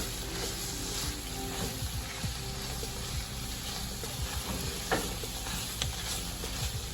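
Pasta with ham, wilting greens and garlic fries in a pan while it is stirred. A soft, continuous sizzle runs throughout, with occasional light scraping and clinking from the spoon, at low volume.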